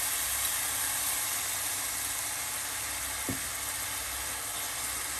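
Tomatoes frying in a quail karahi, a continuous even sizzle close up with one small knock of a utensil midway and no talk.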